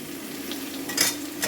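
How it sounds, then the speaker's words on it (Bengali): Onions fry in a hot pan with a steady hiss while a spoon stirs and scrapes them in two short bursts, close and fairly loud. "পেঁয়াজগুনা ভাজা হয়ে গিয়েছে।"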